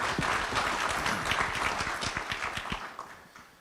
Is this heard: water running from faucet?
no